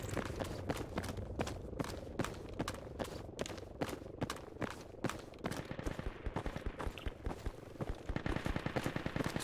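Sustained PKM machine gun fire in the Project Reality shooter, an urban firefight: rapid bursts of sharp automatic shots, some far and some near, with a denser, louder rattle toward the end.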